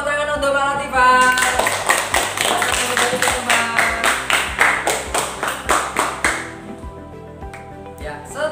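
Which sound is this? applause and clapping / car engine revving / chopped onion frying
applause and clapping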